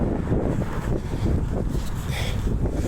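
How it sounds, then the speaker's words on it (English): Steady wind buffets the microphone with a low, rumbling roar that swells and eases over a few seconds. "windy all of a sudden."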